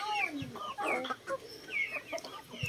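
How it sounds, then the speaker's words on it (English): Several young chicks in a pullet pen give soft, busy clucks and chirps close by, overlapping in short bursts across the whole moment. "So we have like 7 chicks here in the pullet pen."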